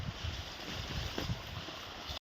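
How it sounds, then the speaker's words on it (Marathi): Water flowing through a farm field channel, a soft continuous rush and gurgle, close, with light wind noise on the microphone and no talk. "असं पाण्याचा आवाज येतोय ना"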